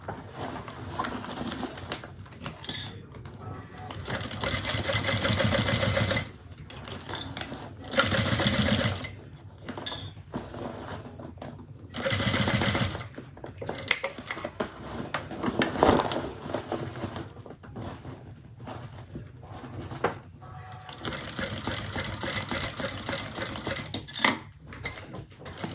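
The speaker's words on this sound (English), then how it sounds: "top stitching is done" A sewing machine top-stitches a convertible bag in repeated runs of fast, rattling stitching lasting a second or two, broken by quiet pauses and small handling clicks.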